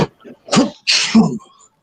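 A single close sneeze with a sharp burst of breath, preceded by a short intake and followed by a quick tail.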